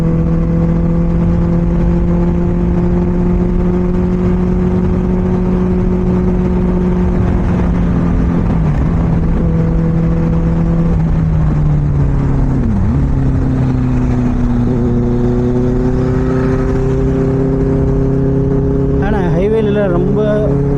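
A Benelli 600i superbike exhaust drones steadily while riding on the road, its pitch rising and falling with throttle changes and a brief rev surge near the end, loud and continuous throughout.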